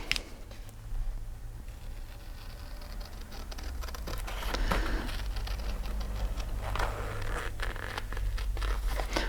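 Scissors cut a paper shape for a junk journal, with crisp snipping and crunching close by over a faint background rustle and no talk.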